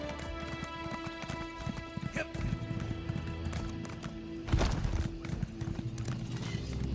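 In the video game The Elder Scrolls Online (ESO), horse hooves gallop in a steady, rapid clip-clop during a ride, with a brief whinny. Voices speak over the rhythmic hoofbeats.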